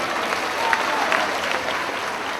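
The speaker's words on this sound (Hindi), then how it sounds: "जोरदार तालियां देवी जी के लिए एक बार।" A crowd at a Sawan religious program for Har Har Mahadev Seva Sangh claps loudly for an honored guest, a dense continuous burst of applause that stays fairly steady, with no speech over it.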